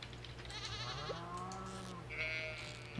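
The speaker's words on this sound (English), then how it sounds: "My sheep, they have wool like every third day." Sheep bleat in the farming video game Stardew Valley, a few wavering game-sound calls over a steady low background hum, fairly clear with no talking.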